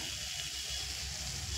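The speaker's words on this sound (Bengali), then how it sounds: "এবার দিয়ে দেব যে চিকেন আমি সিদ্ধ করে রেখেছিলাম" Boiled chicken pieces hit a hot frying pan for a stuffed nasta filling, giving a steady, even sizzle that holds throughout with no talking.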